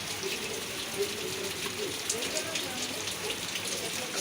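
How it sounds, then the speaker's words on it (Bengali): Heavy rain falls steadily outside a house veranda, a continuous even hiss of drops spattering on surfaces, close and unbroken throughout with no voices. "আজকে খুব বৃষ্টি পড়ছে"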